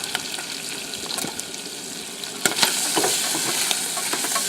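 Cajun-seasoned wild Merriam's turkey giblets fry in a pan with a steady crackling sizzle, bright spits and pops scattered throughout, growing a little louder and busier partway through.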